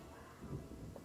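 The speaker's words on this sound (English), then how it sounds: "a deafening clap of thunder as a bolt of lightning cracks down and scorches the huge tree in the middle of the village" Thunder clap and lightning strike in Pathfinder: Kingmaker, hitting a huge village tree: a low, rumbling burst with rain-like hiss, faint and brief.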